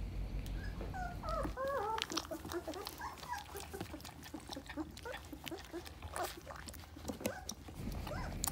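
Three-week-old Belgian Malinois puppies whimpering and squealing during their first weaning feed, high thin cries at the start giving way to busy snuffling, slurping and scuffling, with faint talk in the background.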